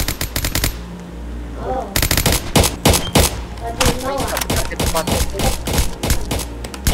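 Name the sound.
gunfire in an SCP video game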